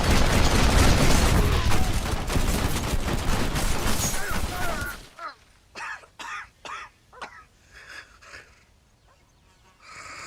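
Gunfire in a shooting video game, a dense burst of loud rapid shots at the start, then several separate sharp bangs spaced out after it.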